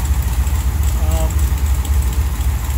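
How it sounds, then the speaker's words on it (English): A Mopar 440 big block with a stroker kit (505 cubic inches) idles with an exhaust leak. A steady, low, rumbling idle runs close up throughout without letting up. "Got an exhaust leak, I can hear that."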